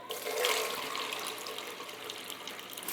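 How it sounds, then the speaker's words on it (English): Water running steadily from a tap into a film developing tank, a continuous close hiss and splash that swells slightly at the start, heard without talk. "you can most certainly do like a what's called a stop bath, where you just run water into the tank, which is what I'm going to do right now"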